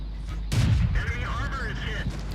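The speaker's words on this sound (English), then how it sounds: "And he was shooting a HE shell there." A tank in World of Tanks, a Churchill VII, fires an HE shell: one heavy, booming blast early on, followed by someone talking over the fading rumble.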